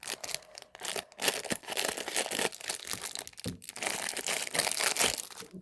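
Plastic packaging crinkling and tearing open as cheap Temu scissors cut through it, a dense run of close, loud crackles and rips with brief pauses.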